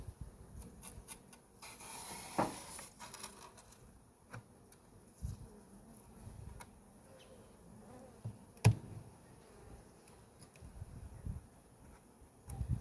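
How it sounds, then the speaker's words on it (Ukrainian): A steady, close buzz of many honey bees humming together inside a hive as frames are inspected, with scattered scraping and knocking sounds and a few sharper clicks throughout. "Ось така кількість бджоли з обох сторін."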